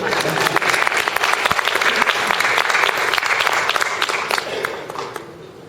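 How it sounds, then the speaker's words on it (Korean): A big round of applause from a crowd at a Won Buddhist gathering, dense and loud clapping that carries on steadily before tapering off toward the end. "큰 박수로 다시 한번."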